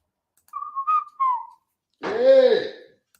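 A man whistles a short, wavering tune in a few clear notes, then makes a brief rough throat-clearing sound.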